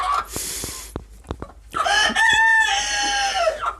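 Young laying hens hatched in spring cluck in short sharp bursts, then a rooster lets out a loud drawn-out crow close by, with farmyard clatter around them.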